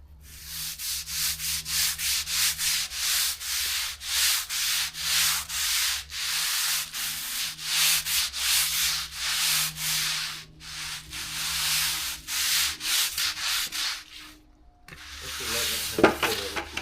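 Steady back-and-forth scrubbing strokes rasp against an object at close range in a home, repeating in a regular rhythm for most of the stretch, with a brief pause near the end and little talk.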